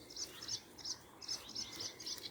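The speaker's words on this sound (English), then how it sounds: "Whitethroat over there singing." A whitethroat singing from scrubby hawthorn cover in Cheshire, quick scratchy bursts of chattering song repeated in short phrases, moderately distant and fairly faint.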